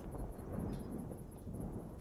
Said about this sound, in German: Ich möchte nicht, dass es donnert.